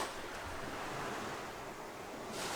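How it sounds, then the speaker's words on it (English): Ocean waves wash in against a rocky cape on the Northumberland Strait, a dense continuous roar of surf with a swell rising at the end, near and steady with no voices. "every time a wave comes in, it eats a tiny little bit more away"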